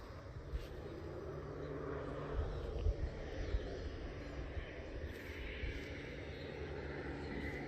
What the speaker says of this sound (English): here comes this airplane again